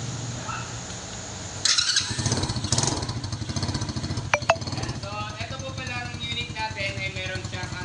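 A 125cc ATV engine starts and keeps running with a loud, steady, rough idle from close by. A high squeal and some clicks are briefly audible, and voices talk over it at times.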